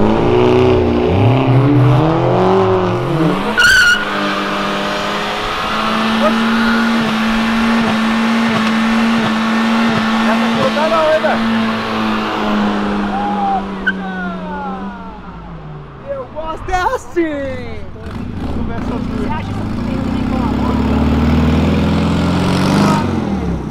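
A car revs hard with wheels spinning as it leaves a car event, only one wheel smoking. A sustained engine drone with rising and falling pitch holds through most of the stretch, and people talk and shout over it.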